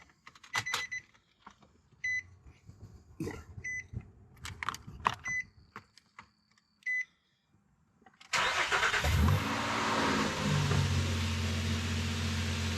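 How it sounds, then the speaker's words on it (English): A Nissan Frontier pickup after an automatic transmission service: ignition chimes and clicks, then the engine cranks, catches and settles into a steady, close idle. "We'll go ahead and start it up right now."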